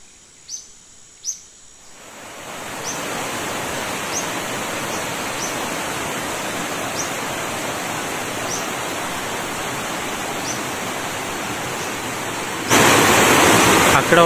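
A waterfall at Khoh Ramhah in Cherrapunji, Meghalaya, swollen by heavy rain, pours in a steady broadband rush after a quiet start, with faint bird chirps above and a sudden louder surge near the end.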